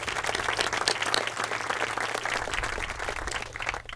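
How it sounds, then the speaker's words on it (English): Audience applause at an outdoor groundbreaking ceremony for university student housing, a steady, dense wash of many hands clapping that holds for about four seconds at even strength, with no talking. "please join me in giving a round of applause to Keith."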